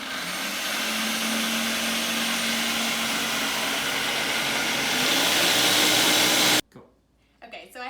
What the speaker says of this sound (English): Now, while it's running, I'm going to slowly add the half cup of olive oil that I've measured out